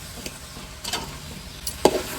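A spoon scrapes and clinks against a pan of chicken curry a few times over a soft sizzle, the stirring quiet and sparse.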